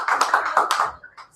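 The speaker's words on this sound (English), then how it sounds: "Let's give another round of applause to Jesse." Audience applause for a performer at an open-mic night at Cush, a brief burst of many hands clapping at once that fades out within about a second.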